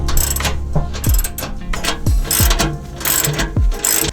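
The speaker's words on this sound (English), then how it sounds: "So now I've just got to screw the bolts back onto these pieces" Bolts being screwed onto the base of a Kiravans double seat swivel in a VW T5 van, heard as a rapid, loud ratchet clicking in repeated bursts with metallic knocks between strokes, close up and without talk.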